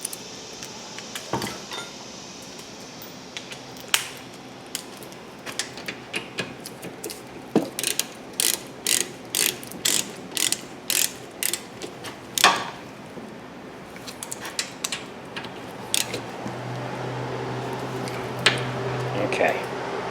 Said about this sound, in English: we're going to grab our 17mm ratchet that we previously took the bolts out with, and we're going to reinstall them